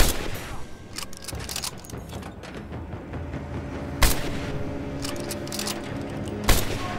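Gunfire from Lara's weapon in Rise of the Tomb Raider's Baba Yaga DLC, sharp loud shots at irregular intervals, two standing out clearly, over low ambient game sound.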